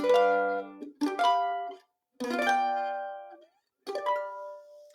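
A mandolin plays short bright blues-scale phrases in three bursts separated by brief silences, notes ringing with a slight slide, no voices.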